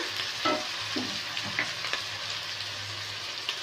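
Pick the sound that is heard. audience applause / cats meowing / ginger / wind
ginger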